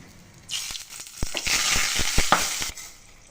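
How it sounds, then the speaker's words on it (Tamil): Dried red chilies and curry leaves drop into hot oil and sputter in a burst of crackling sizzle, with sharp pops over a steady hiss that fades after a few seconds. "ஒரு 4 கருவேப்பிலை போட்டுட்டு லைட்டாக தாளிச்சிடலாம்."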